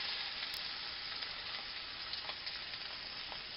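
Beef pieces browning in a pan with salt and pepper, a steady close sizzle with a constant even hiss and occasional faint crackles.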